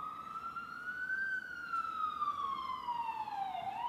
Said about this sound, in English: That siren was killing me. Yeah, they going by.